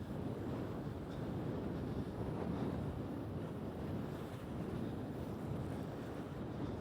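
Strong, steady wind roars across the microphone on the Sarenne, a long black ski piste in the Alps, as a continuous rushing buffet with no pauses.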